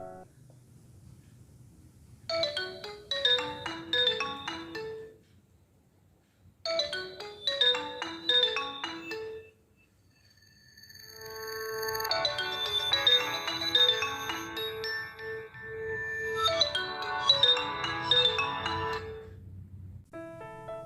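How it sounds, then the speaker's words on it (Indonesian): A classic Nokia mobile phone ringtone plays a bright, beeping melody in four repeated phrases with short pauses between them, clear and loud with no talking. "Kita coba ringtone legendaris dari Nokia supaya membangkitkan ingatan masa lalu ya"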